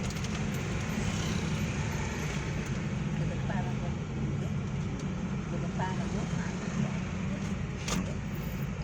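Stop-and-go road traffic jammed at a red light in Yogyakarta on a weekend, heard from inside a 2012 Hyundai Avega GX: a steady low rumble of idling engines and cars runs throughout, with a voice talking over it.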